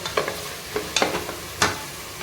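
Mint leaves sautéed in a pan for tomato biryani, a few soft stirring scrapes and faint sizzle heard close and quietly, with no talking.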